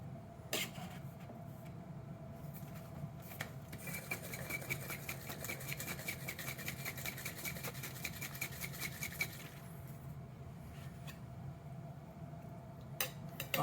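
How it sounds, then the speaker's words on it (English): Mint, blueberries and lemon juice dry-shaken without ice in a cocktail shaker: a steady, fast rattling and rubbing of shaker and contents runs for several seconds, with scattered clinks before and after. "we're going to dry shake those"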